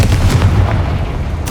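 Confringo fire-blast spell in Hogwarts Legacy, a booming explosive impact with a heavy low rumble that holds steady, then a brief bright crack at the end.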